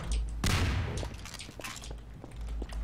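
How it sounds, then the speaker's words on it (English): An incendiary grenade goes off in the game Trouble in Terrorist Town, a sudden loud burst that rumbles and fades, followed by scattered thuds and crackles. "It was an incendiary."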